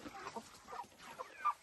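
Chickens clucking on a poultry farm near a water container, a run of short, fairly quiet clucks and calls from several birds with one sharper call near the end.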